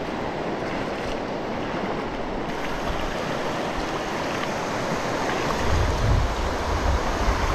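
Steady broadband rush of sea waves washing onto a white-sand beach in Pangasinan, Philippines, with wind buffeting the microphone and a swelling surge near the end.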